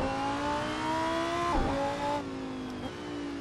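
A race car in the Assetto Corsa racing game on Trofeo tires, its engine droning loud and steady, then dipping and blipping through two quick downshifts, with no talking.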